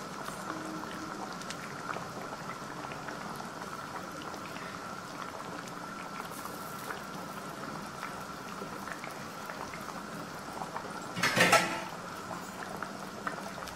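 Egg gravy simmers on a stove, giving a steady, soft bubbling and gentle popping that continues evenly throughout, with one brief louder sputter near the end.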